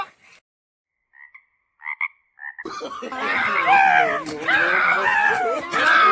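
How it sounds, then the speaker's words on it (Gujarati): Frogs croak in rainy-season countryside, a dense chorus of rasping, warbling calls that starts abruptly after a few quiet seconds and continues loud and close, with a few short sounds before it. "જયારે ડેટકા બોલશે ને તારે વરસાદ થશે"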